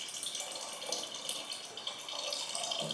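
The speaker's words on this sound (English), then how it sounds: "So this is just warm tap water, it's not boiled water." Warm tap water pours steadily into a home brewing vessel, a continuous bright hiss and splash with small fluctuations and no voices.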